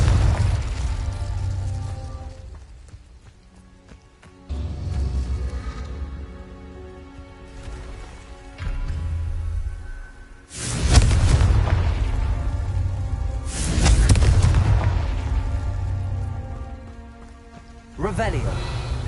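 Repeated Confringo fire-spell explosions from Hogwarts Legacy, heavy booming blasts that swell and fade over a long stretch of loud crackling rumble, with speech mixed in.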